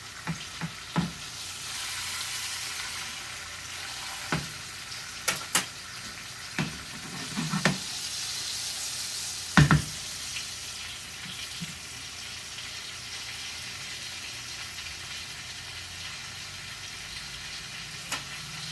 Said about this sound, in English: after I take up this first skillet of fries, I will let you go because it's kind of redundant for me to keep you while I fry every potato I cut